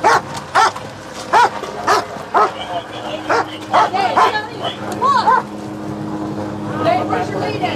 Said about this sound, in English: Was it your dog?